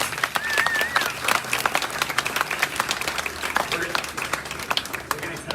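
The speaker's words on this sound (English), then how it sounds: "So round of applause, please, for Luke Warford." Applause and clapping from the audience at a town hall meeting in Waxahachie, a dense crackle of many hands throughout, with voices talking over it.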